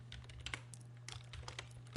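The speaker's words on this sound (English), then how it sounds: "I'm going to go and type wiggle" Quiet clicking of computer keyboard keys as a short expression is typed, a quick irregular run of taps over a low steady hum, with no talk.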